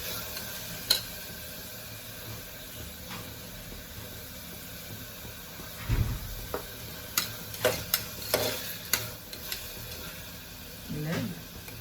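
Tomato paste sautés in a pan with a low, soft sizzle, broken by intermittent stirring clinks and scrapes that grow busier toward the end.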